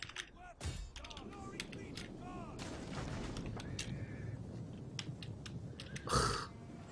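Heavy shot volleys in a video game battle between a large Frankish army and Rome, heard as repeated booming cannon-like blasts and mechanical clatter over a busy battlefield din, with a sharp loud burst near the end.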